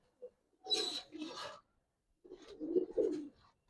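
Giribaz pigeon, a black bird, gives two short bursts of throaty cooing up close, then after a pause a longer rolling coo with a faint click or tap at the start.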